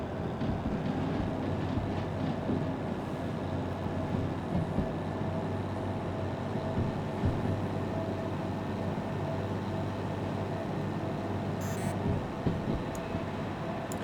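A locomotive running on rails in the video game Derail Valley, a continuous low rumble and drone of the engine and wheels with a steady hum throughout, close and even.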